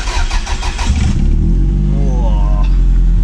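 A Toyota MR2 second-generation W20 engine with an aftermarket exhaust cranks and starts with a sputtering burst, then settles into a deep, loud rumbling idle with a throaty exhaust tone, close up.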